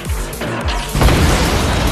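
A loud crash and booming burst, with heavy impacts giving way to a sustained roaring blast that fills the rest of the moment.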